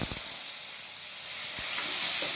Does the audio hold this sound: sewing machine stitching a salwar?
no